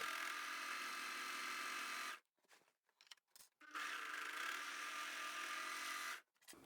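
Overlocker stitching the handles of a fabric tote bag in place, a steady fast mechanical buzz in two bursts separated by a short pause with small clicks and handling sounds, with no talking.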